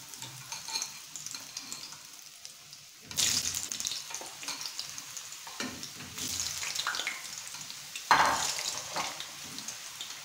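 Potato pieces for a Swahili beef biriani frying in oil, a steady hiss and sizzle with bursts of louder crackling and stirring as pieces are added or turned, close and moderately loud.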